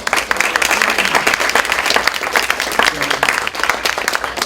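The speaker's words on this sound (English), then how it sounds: "Give yourselves a hand of applause" Loud, dense applause from an audience in attendance after a panel discussion on politics and communities of color, continuous and close with a few voices in the mix.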